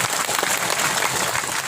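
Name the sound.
crowd applause at outdoor sermon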